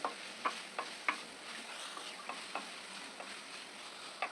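Malabar spinach with onion and green chilli cooks in a pan, giving a quiet, continuous sizzle. Light spoon taps and scrapes recur irregularly as the greens are stirred, close by and with no talking.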